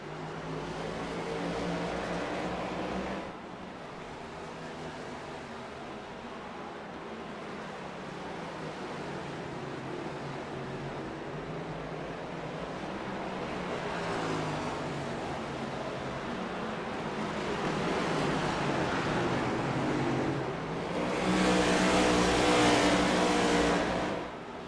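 Race cars roar continuously around Martinsville's short track, a dense, sustained engine drone that swells and surges toward the end as the pack passes close.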